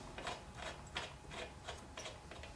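Spark plug being tightened into the cylinder head of a Toro engine with a ratchet, about seven quick clicking ratchet strokes in a steady rhythm, close and fairly quiet, with no talking.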